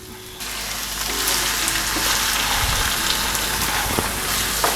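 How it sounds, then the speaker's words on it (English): Canned plum tomatoes tip into a pan of frying onions and the sizzle swells into a loud, steady crackle that stays dense to the end, with a few stirring clunks and no talking. "So I'm going to add in both of my cans of plum tomatoes"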